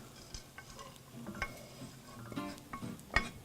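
Cooked rice being stirred into sautéed onions in a pan, with soft scraping and intermittent clicks of the utensil against the pan over a faint sizzle, close and quiet with no talking.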